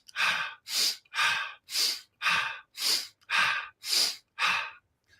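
Nine slow, deliberate breaths, each a long airy hiss as if drawn through a straw, repeat in an even rhythm with short pauses, close and clear with no talk.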